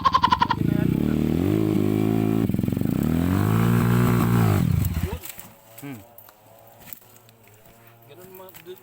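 Trail motorcycle revving hard on a dirt trail, a loud close engine roar with rising and falling pitch that cuts off abruptly, leaving quieter mechanical sounds and faint engine noise afterward.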